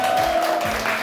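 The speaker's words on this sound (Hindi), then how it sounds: "तालियां बजाएं इनके लिए।" An audience at a Karachi school event gives a brief, steady burst of applause, a dense wash of clapping lasting about a second.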